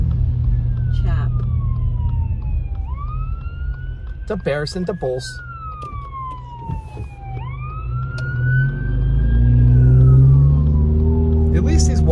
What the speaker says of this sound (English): oops, ambulance.